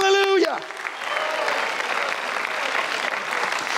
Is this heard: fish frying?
no